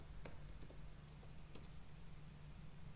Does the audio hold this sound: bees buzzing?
no